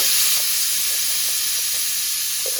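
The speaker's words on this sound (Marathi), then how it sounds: "आणि कुकरच्या शिट्ट्या होत आहेत बघा, झाल्यात 2" A pressure cooker on the stove vents steam in a loud, continuous hiss with a thin, high whistling tone running through it, close and unbroken, with no talk.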